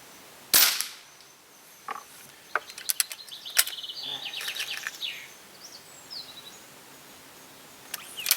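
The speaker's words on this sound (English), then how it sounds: "I'll put a couple of more shots for him through the 77." A Weihrauch HW77k air rifle fires one sharp, loud shot near the start, followed by a few fainter clicks and handling sounds, with outdoor birdsong in the background.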